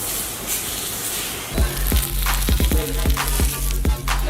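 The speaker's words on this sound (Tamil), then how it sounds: "லைட்டாக சாத்தே பண்ணிங்கனாலே போதும்." Vegetables sauté in butter over a low flame, a soft hiss building into rapid crackling pops and repeated stirring knocks against the pan, close and fairly loud with no voices.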